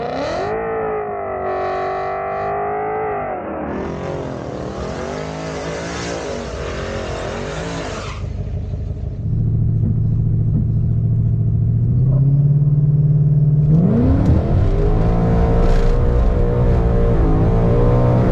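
A Chevrolet Camaro ZL1 running E85 fuel at a drag strip revs its engine in rising and falling sweeps, then settles into a deep, loud idling rumble before revving up again.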